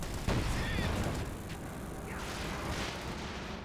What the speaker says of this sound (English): it was just a barrage by the Panzerwerf